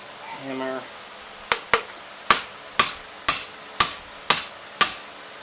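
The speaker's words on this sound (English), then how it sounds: "Hammer." Eight sharp hammer strikes ring out on metal parts of a homemade bush hog, knocking a piece loose, arriving in a steady rhythm after a brief voice at the start.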